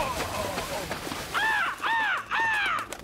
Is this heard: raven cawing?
yes